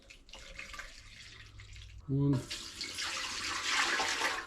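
Water runs into a car's oil pan on a workbench, a quieter trickle first, then a louder steady gush of pouring, with a man counting aloud over it.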